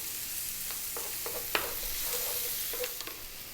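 Onions fry over medium heat for a fish curry, a soft, fairly quiet sizzle punctuated by occasional clicks and scrapes of stirring.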